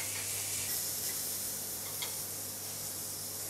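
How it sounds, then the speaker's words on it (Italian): Small pieces of cuttlefish fry in a very hot pan, giving a steady, broad sizzle and hiss with a few faint pops and no talk. "Andiamo a cuocere la nostra seppia, la pentola deve essere particolarmente calda."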